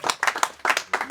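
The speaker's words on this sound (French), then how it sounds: "et on applaudit" Scattered handclaps from a small group of guests at a civil wedding ceremony, a few quick bursts of clapping rising and falling over about a second.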